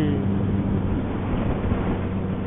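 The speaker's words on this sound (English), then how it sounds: "Oh man, that exhaust note is so nice. But it's loud." A motorcycle ridden with its exhaust muffler removed gives a loud, continuous, rumbling exhaust note heard close by, with wind roar mixed in and no break in the sound.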